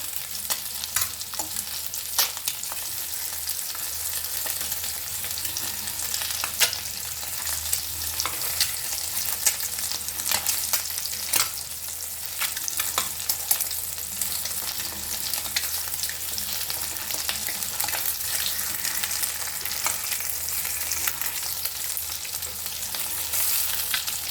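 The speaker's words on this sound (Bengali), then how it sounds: "ডিমগুলোকে বেশি ভাজবো না, হালকা করে ভেজে নেবো। শ্যালো ফ্রাই মতো করে নেবো।" Eggs shallow-frying in a pan, a continuous crackling sizzle with occasional stirring and turning clicks, close and steady for the whole stretch with no talk.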